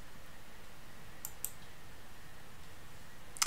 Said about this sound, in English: I would click on this link and then type it in here